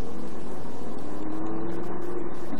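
A Lamborghini Gallardo engine accelerates on a driving track, a loud, steady close-up drone whose pitch climbs gradually as the revs build.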